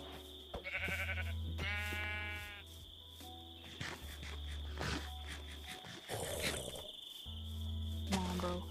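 Sheep in a video game bleat several times in short wavering cries, loud and close, over a steady high insect-like hum and low synthetic tones.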